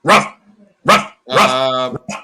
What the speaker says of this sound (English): Shut that fucking dog up, Adam.